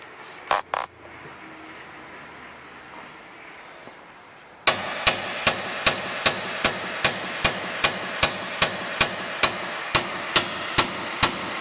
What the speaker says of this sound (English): We're going to try tapping it on it with a hammer.